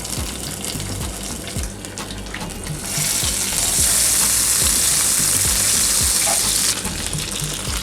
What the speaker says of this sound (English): in my skillet here, I'm going to heat up a tablespoon of butter as well as a tablespoon of oil